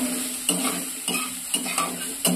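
Soaked soybean chunks frying in smoking-hot oil, giving a steady sizzle broken by about five sharp stirring scrapes in an even rhythm, close and moderately loud with no talking.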